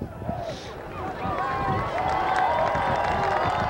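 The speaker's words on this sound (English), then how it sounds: "The Moline fans are fourth on their feet and cheering" Moline high school football fans cheer at a 1996 game against Rock Island in Illinois, a broad crowd roar that swells over a few seconds beneath a voice speaking.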